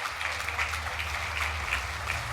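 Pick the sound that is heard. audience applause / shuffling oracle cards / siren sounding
audience applause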